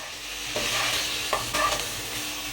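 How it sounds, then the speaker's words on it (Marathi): Poha is mixed into a hot tempering of chillies in a pan, a continuous close sizzle with a few soft scraping stirs of the spoon and no voices. "ह्या तडक्यामध्ये हे छान असं मिक्स करून घेऊ"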